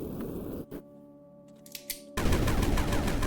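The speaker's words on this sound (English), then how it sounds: "Triple burst and slightly faster shooting speed." Triple-burst weapon fire in the modded Sandustry video game, a loud dense rattle of rapid shots that starts abruptly after a quieter stretch and continues steadily to the end.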